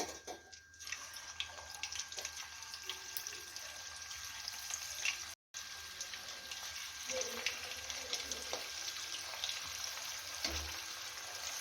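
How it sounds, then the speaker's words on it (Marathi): Chicken 65 pieces deep fry in hot oil with a soft, steady bubbling hiss heard up close, broken by one brief cut of silence midway; no one talks. "बाकीचे सिक्स्टी फाईव्ह असंच तळून घेऊया"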